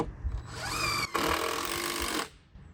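A screw is driven into a tree house joist, a close whirring drill burst that pauses briefly and resumes before stopping, with no talk.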